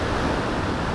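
Ocean surf at Tanah Lot, Bali, a steady loud broadband rush of splashing, foaming waves mixed with wind buffeting the microphone, with no voices.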